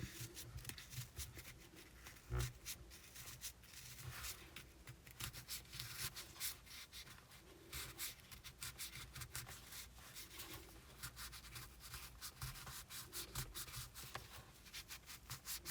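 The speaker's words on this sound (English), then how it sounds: "I'll take my trusty stick and go ahead and slowly stuff it up." Stuffing is pushed with a stick into a crocheted amigurumi dragon, giving a long stretch of soft, close rubbing and scratching with small irregular scrapes and no voices.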